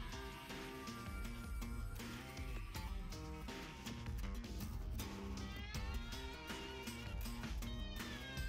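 Meows from a cat in the video game Downwell come up over busy, steady game music. They are high and wavering, grow clearer in the later part, and sit mid-level within the music.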